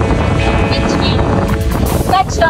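Strong wind buffeting the microphone at a beach campsite in Palauig, Zambales, a loud continuous low roar with surf-like rushing, and a voice speaking over it toward the end.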